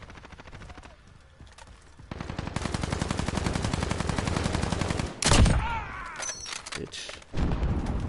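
Rapid bursts of gunfire in a shooter game, long rattling automatic volleys with sharper close shots and a loud blast near the middle, while a man briefly swears.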